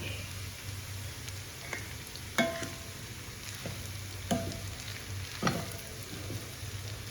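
Lemon sevai is being tossed with a spoon in a hot pan on a switched-off stove. A soft, close sizzle runs under a few distinct scraping clinks of the utensil against the pan, with no talking.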